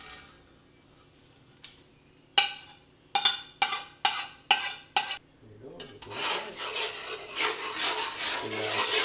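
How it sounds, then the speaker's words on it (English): A spoon scrapes through Cajun shrimp and sausage jambalaya in a pot: a few sharp, evenly spaced strokes, then a steadier, louder rasping stir with a sizzle underneath. "Give it a stir."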